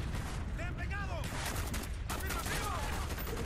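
Rapid gunfire from a weapon in Call of Duty Black Ops, bursts of shots over continuous game sound, with a voice talking in between.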